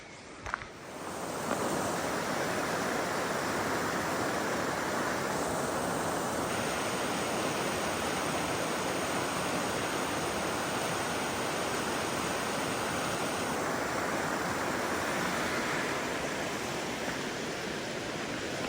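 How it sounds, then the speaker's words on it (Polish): Rushing water of a mountain stream beside a roadside stop near Zuberec in Slovakia's Western Tatras, a steady broad roar that holds loud and unbroken throughout, with no talking. "Nic tylko cieszyć się tym szumem wody tą naturą."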